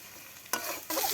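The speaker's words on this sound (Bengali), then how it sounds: "আগে মশলাগুলো ভালো করে কষিয়ে নেব" Ginger, cumin and mustard pastes fry in a pan, a soft sizzle punctuated by two sharp scraping stirs from a spoon.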